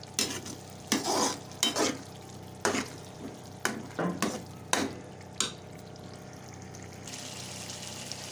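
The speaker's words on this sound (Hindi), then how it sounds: "लहसुन को अदरक का पेस्ट शामिल करने के बाद 2 मिनट तक इसे फ्राई करेंगे।" Garlic ginger paste fries in a pan for a spicy okra dish, a continuous soft sizzle broken by repeated sharp stirring scrapes at an uneven rhythm, close and alone with no talking.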